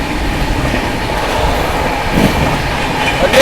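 The Ajmer–Sealdah Superfast Express speeds past at about 130 km/h, a loud, steady rail roar and rumble with faint wheel rattle running unbroken throughout, with no voices.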